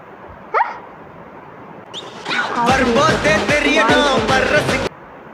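Dog barking close and loud: a single yelp, then a rapid run of sharp barks and yips for a couple of seconds before stopping abruptly, with no talking.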